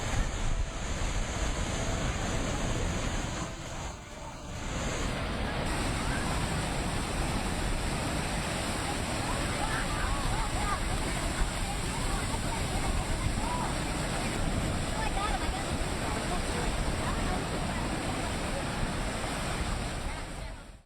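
Powerful ocean waves surge and crash at Queen's Bath, a rocky lava-rock tide pool on the Hawaiian coast, a steady loud roar of surf with wind buffeting the microphone and a brief dip in the wash partway through.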